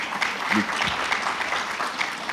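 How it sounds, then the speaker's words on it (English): Audience applause at a conference session, a steady dense wash of clapping at moderate level throughout, with a brief voice rising faintly underneath. "please clap for that"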